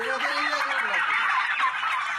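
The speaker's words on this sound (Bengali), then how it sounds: "টার্কি মুরগির মতো দেখতে একটি বড় আকৃতির পাখি।" Turkeys on a farm gobble in a rapid, warbling burst, close and fairly loud, filling the short moment without talk.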